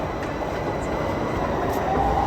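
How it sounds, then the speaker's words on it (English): A Copenhagen metro train rides from the airport toward the city center, a steady rumbling roll of wheels and carriage noise with faint clicks and a thin squeal near the end, continuous and fairly loud. "On the metro."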